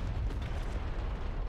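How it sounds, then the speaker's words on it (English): Machine gun fire in the War Thunder video game, heard as a rough continuous rumble of rapid bursts down a road, fairly loud and dense with no clear gaps between shots. "Hey, we're seeing some machine gun fire down this road."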